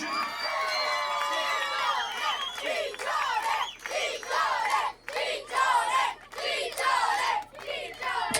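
An audience at an Italian folk music performance cheers and shouts in loud, rhythmic bursts, voices whooping and calling together in repeated surges rather than a steady wash of clapping.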